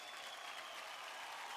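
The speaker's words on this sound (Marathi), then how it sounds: "जोरदार टाळ्या होऊन जाऊ द्या स्वप्नील आणि अक्षतासाठी." A studio audience at a televised dance competition show claps briefly, a faint and even patter of applause with no clear peaks.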